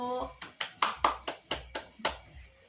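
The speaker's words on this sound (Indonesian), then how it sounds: "Beri tepuk tangan kepada kelompok 1" A primary school class claps for group 1 with about eight sharp, evenly spaced claps in a steady rhythm, close and fairly quiet, after a voice trails off at the start.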